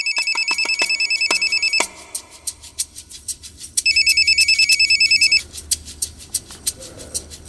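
A telephone rings in two long bursts of rapid electronic trilling, separated by a pause with short clicks, then more clicking taps follow; close and clear with no talking.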